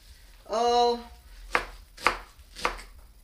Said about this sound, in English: And I kind of want to chop these